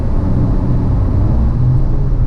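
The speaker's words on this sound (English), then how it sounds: "you hear the car just wake back up again and kind of come back to life" A stage 2 Audi RS3 running on E85 with drive select set to dynamic rumbles with a loud, close, deep engine drone that holds steady throughout, with no talking.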